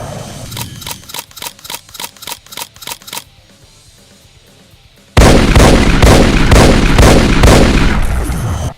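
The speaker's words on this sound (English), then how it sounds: "It has more different attacks this time. It has dual explosive miniguns" Dual explosive miniguns on an airborne enemy in a Doom mod, a rapid regular burst of sharp shots that stops after a few seconds, then after a pause gives way to a loud, sustained roaring blast.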